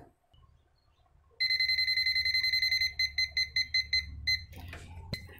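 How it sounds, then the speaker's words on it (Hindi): A non-contact voltage tester built into a multimeter beeps near an AC unit, a steady loud run of rapid electronic tones that then breaks into separate, slower beeps before stopping. "ये जितना एसी के पास जाएगा इसका बीप का जो स्पीड है वो बढ़ जाएगा"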